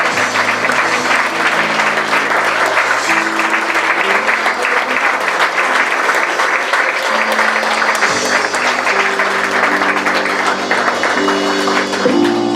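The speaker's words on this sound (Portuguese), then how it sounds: "Um aplauso para aquele que vem, Senhor" Church congregation applauding, dense sustained clapping over a steady organ or keyboard chord bed, loud and continuous throughout with no talk.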